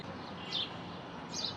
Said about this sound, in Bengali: আর পাখির কিচিরমিচির আওয়াজ হচ্ছে।